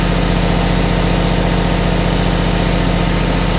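Weedinator weeding machine engine running steadily at high revs, a loud, constant mechanical drone with no voices.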